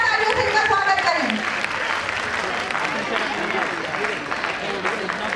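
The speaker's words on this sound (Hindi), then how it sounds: "जोरदार तालियों से इनका स्वागत करें।" At a school annual function, an audience claps loudly to welcome nursery class children. The dense clapping runs throughout, with a voice audible over it at the start.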